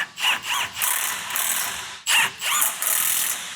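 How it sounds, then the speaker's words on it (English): A hand ratchet clicks in repeated quick bursts while tightening tie rod castle nuts on a GM truck, close and crisp with brief pauses between strokes. "let's tighten up some tie rods"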